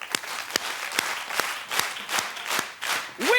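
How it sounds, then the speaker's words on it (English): Studio audience on a daytime talk show claps together in a steady, evenly spaced rhythm, crisp beats under a wash of applause, with a brief vocal whoop at the end. "Let's clap together"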